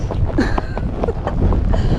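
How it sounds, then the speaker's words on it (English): Strong gusty wind roars steadily across the microphone during a ride on a draft horse, a dense broadband rush with faint hoof thuds underneath. "here we are, riding alone on a really freaking windy day"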